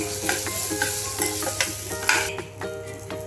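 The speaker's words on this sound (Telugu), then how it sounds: "పచ్చిమిరపకాయలు కొంచెం పేలుతాయి" Green chillies sizzling and crackling in hot oil for a gongura chutney, a steady close frying hiss punctuated by sharp pops and bursts, with faint stirring and no talking.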